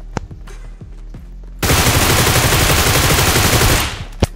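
Sustained burst of automatic gunfire in the mobile shooter PUBG Mobile, loud and continuous for about two seconds after a few sharper isolated shots and clicks, with no talk.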